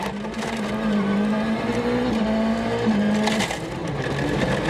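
Onboard sound from a World Rally Championship car on a stage: a loud engine note climbing and dropping through gear changes, with gravel and road rumble underneath the whole time.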